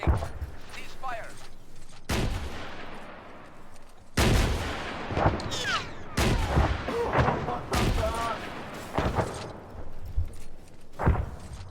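Gunfire on a firing range in a military video game: sharp, loud shots ring out in irregular bursts, with several single cracks and quick clusters and short pauses between them.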